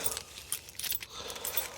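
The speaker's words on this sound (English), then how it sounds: "I'm going to grab the keys." A bunch of keys for a 1996 UD 1400 truck jangles as it is grabbed, a soft, close metallic rattling in a few small bursts.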